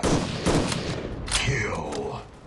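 Gunfire in the mobile shooter Guns of Boom, a dense, loud burst of rapid shots followed by a few scattered reports and a short echoing tail.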